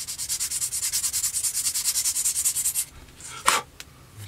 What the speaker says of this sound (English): My sanding stick, just to make sure it is all the same height